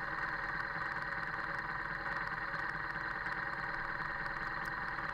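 Continuous drone of a BMW R nineT motorcycle engine with steady road rumble underneath, even and moderately faint, no voices.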